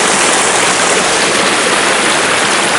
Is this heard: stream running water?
yes